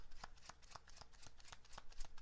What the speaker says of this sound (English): Oops, this card's falling down.